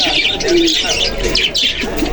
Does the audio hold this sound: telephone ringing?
no